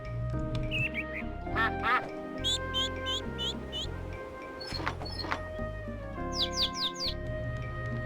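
Ducks quacking in the farming game My Time at Portia, a few repeated nasal calls over steady game music and ambient bird chirps, with talking partly overlapping.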